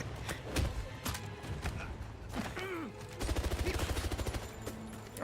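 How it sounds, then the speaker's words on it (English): Gunfire from the 007 First Light video game: scattered single shots, then a rapid burst of repeated cracks, mixed with mechanical clatter and a game soundtrack. "shot the damn gun at him"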